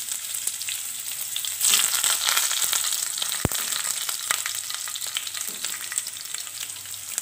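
Chopped onions and curry leaves hit hot oil with popped mustard seeds for a Kerala-style dhal tadka. A loud, steady sizzle swells sharply as they go in, with a few scraping stirs and no voices.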